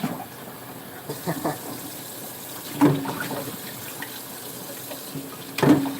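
Tap water runs into a sink during dishwashing, a steady low wash broken by a few louder splashes and clatters, with no talking.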